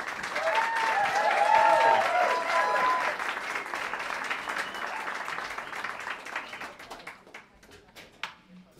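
A sold-out crowd at a live show at Caffe Lena applauds to welcome the band, with dense, loud clapping that swells early, then gradually thins and fades over several seconds, with a few scattered claps near the end.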